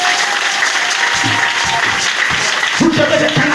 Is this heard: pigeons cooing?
no